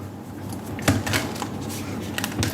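Tarot and oracle cards are shuffled with quick papery riffles and soft flicks, close and fairly quiet, in a brief irregular sequence.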